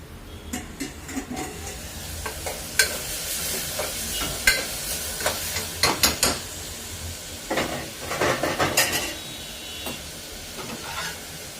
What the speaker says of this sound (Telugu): రెడీమేడ్ పరోటా కాల్చుకుంటున్నాను అనమాట